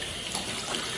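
Water from a garden hose splashes over a wet-dry floor washer as it is rinsed, a steady close rushing spray running without a break and with no talking.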